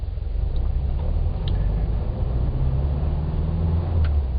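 Classic Type 1 VW Beetle fitted with a Gene Berg gear shift, its low air-cooled engine droning steadily as the car pulls away in first gear, with faint ticks and clicks above the rumble.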